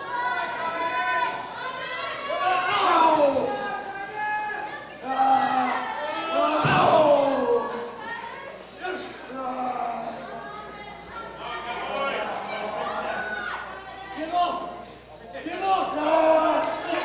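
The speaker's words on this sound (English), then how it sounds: "Crowd getting behind Titus here." A wrestling crowd cheers and chants for a wrestler named Titus at a live independent wrestling show, the roar swelling and fading steadily with overlapping voices.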